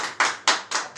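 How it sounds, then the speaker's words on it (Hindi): Audience clapping hands in unison at a church gathering, four sharp, loud bursts of applause in a steady rhythm with no voices. "आप जहां भी हैं आप अपनी ताली को बजा सकते हैं"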